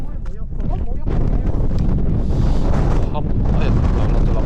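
Strong wind at an outdoor spot on Ishigaki Island, loud continuous gusts buffeting the microphone with a low roar, while people talk and call out over it.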